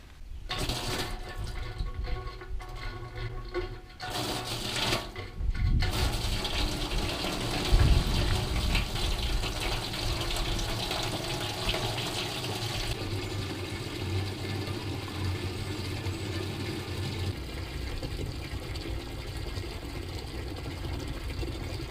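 Water pours and gushes steadily into a welded Mercedes part for a leak test, a continuous close splashing flow after a few seconds of quieter handling noises.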